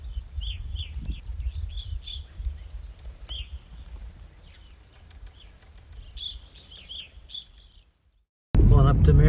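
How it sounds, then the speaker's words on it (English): Birds at snowy winter feeders, including evening grosbeaks, juncos and a blue jay, give repeated short chirps and whistled calls over a steady low rumble, fairly close and clear, before a sudden loud cut near the end. "A junco, or maybe two juncos, evening grosbeaks, and a magpie at the Zabin or Sisu feeders on McDavitt"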